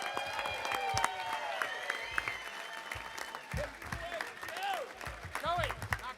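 A crowd at a club raffle event applauds and cheers, dense clapping running throughout with shouts and whistles rising over it, fairly close and steady.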